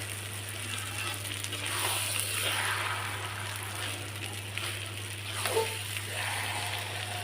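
Fish and khichuri frying in a pan give a steady, moderately loud sizzle, with a couple of brief scraping stirs over it, alone without talk.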